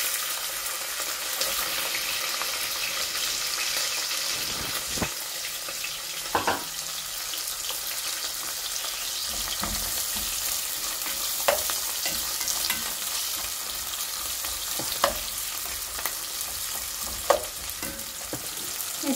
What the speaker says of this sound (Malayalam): ഇപ്പൊ ഉള്ളി പൊരിഞ്ഞു കണ്ടോ